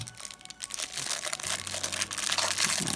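Crinkly plastic blind bag packaging for a Star Wars R2-D2 keychain and eraser being torn open by hand, a continuous close rustling and crackling that grows busier and louder through the clip.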